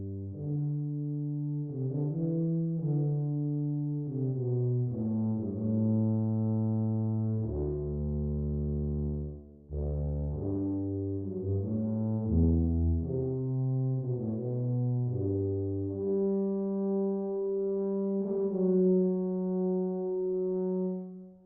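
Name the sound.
tuba from Junkie XL Brass library, close and tree mics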